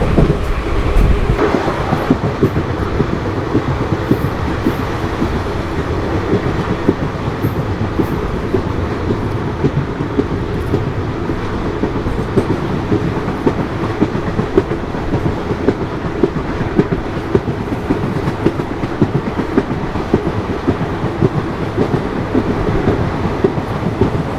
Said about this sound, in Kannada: ಇದು ಶರಾವತಿ ಎಕ್ಸ್ಪ್ರೆಸ್ ಕ್ರಾಸಿಂಗ್ ಆಯಿತು